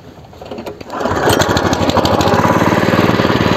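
A walk-behind tractor engine starts after a short rough stretch of cranking, then settles into a loud, steady, rapid chugging that holds close and continuous with no talk.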